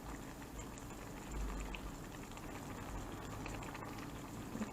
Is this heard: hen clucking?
no